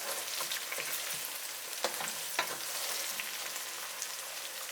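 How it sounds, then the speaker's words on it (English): Ginger and chopped garlic fry in a pan, a steady bright sizzle with a few sharp clicks of stirring, close and alone with no voices. "Add the ginger and the chopped garlic. Stir from time to time for 2 minutes."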